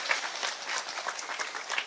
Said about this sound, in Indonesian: Tepuk tangan dulu dong buat petani.